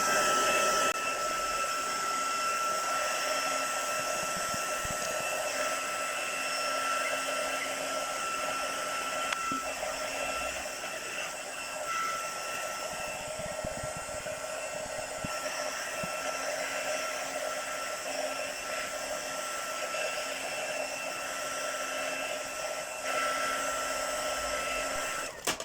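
A handheld hair dryer runs steadily for the whole stretch, drying wet ink on a crafting background; a loud, constant whirring blow with a high whine, close by and alone.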